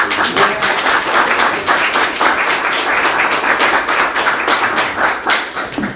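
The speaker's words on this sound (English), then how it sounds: "I'll start by giving another round of applause." An audience applauds at a poetry recital, steady dense clapping filling the room for several seconds without a break, loud and close.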